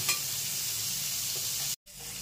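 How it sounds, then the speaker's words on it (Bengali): Chopped onions and tomato frying in a pan for a Bengali lote fish dish, giving a steady loud sizzle and hiss that cuts off for a moment before it resumes. "পেঁয়াজ আর টমেটোটা দিয়ে দেবো, একটু ব্রাউন করে আমি একটু ভেজে নেব।"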